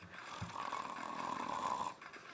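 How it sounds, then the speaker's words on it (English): A single drawn-out snore, faint and rasping with a nasal hum, heard in a quiet room. "Now you snore very loud."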